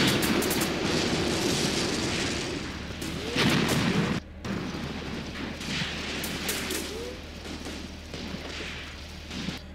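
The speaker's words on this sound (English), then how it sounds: "Major artillery fire." Artillery fire in the WWII tactics game Graviteam Tactics: Mius Front, with sustained rumbling barrages and distant booms filling the scene, a brief gap near the middle, and faint voices mixed under the battle.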